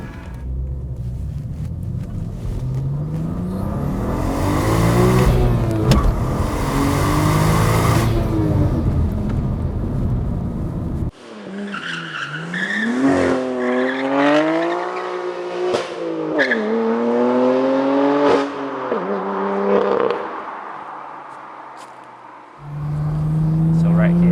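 A BMW M2 Competition with the S55 engine and Valvetronic exhaust revs hard, its loud rising and falling engine note sweeping up and down through several pulls, with a brief cut between runs and someone talking in places.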